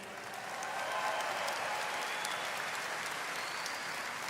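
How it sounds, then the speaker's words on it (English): Audience applause at the Miss Universe 2023 swimsuit competition, a steady dense wash of clapping from a large crowd that swells in and holds evenly without talk. "Let's give another round of applause for our preliminary selection committee."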